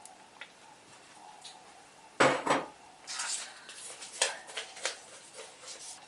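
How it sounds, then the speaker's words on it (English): Onion goes into a pot of oil on a medium burner, giving a sudden loud clatter and rustle, followed by softer scattered taps and light sizzling against quiet. "I've added some oil to the pot. Here I'm adding my onion."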